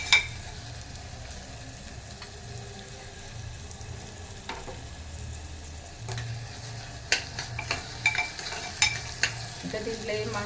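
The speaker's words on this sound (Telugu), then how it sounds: "ఆయిల్ వేసి కొంచెం ఎర్రగా అయ్యిందాక వేపాలి" Spices and ground masala frying in oil for mutton curry make a soft, steady sizzle, with a spoon scraping and tapping the pan now and then, getting busier toward the end. No voices.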